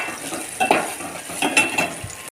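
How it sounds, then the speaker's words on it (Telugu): Onions and tomatoes frying in a pan while being stirred, a steady close sizzle broken by a few scraping stir strokes. "ఇవి ఉల్లిపాయలు బాగా కలర్ వచ్చేంత వరకు ఫ్రై చేసుకోవాలి"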